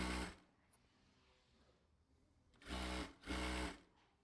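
A sewing machine stitching a dress whirs loudly and close in short runs: a brief burst at the start, a quiet pause, then two strong stitching bursts near the end.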